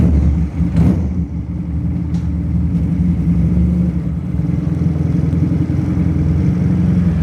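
A Benelli cruiser motorcycle converted to a bobber idles and pulls slowly through a tight turn, a steady low engine rumble with a brief rev near the start, close and alone.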